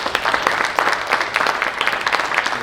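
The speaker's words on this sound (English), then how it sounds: "Everybody give him a round of applause." A crowd at a panel discussion claps steadily and fairly loudly, with individual hand claps standing out within the continuous applause and no speech over it.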